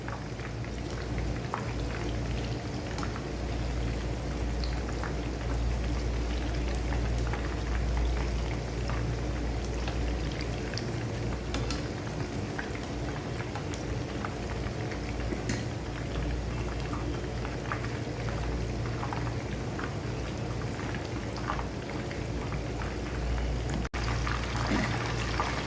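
Fish fries in hot oil in a pan, giving a steady, dense sizzle and crackle that stays even and close for the whole stretch, with no talking.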